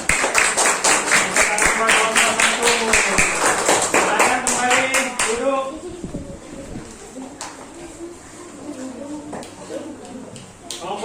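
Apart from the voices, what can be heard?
class clapping hands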